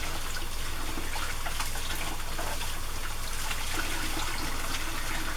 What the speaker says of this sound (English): I have to rinse this rag out.